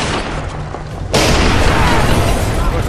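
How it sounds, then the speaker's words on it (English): A grenade explosion in Splinter Cell Conviction hits suddenly after a quieter stretch, a loud, broad blast whose rumbling roar carries on for more than a second. "I really feel like grenades don't explode fast enough"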